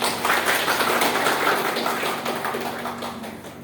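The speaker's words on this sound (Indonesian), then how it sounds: "Beri aplaus terlebih dahulu." Applause in a classroom, a steady wash of many hands clapping at once that fades slightly toward the end, with no speech over it.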